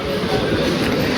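A train rumbles past at close range, a loud, dense and continuous roar with no break.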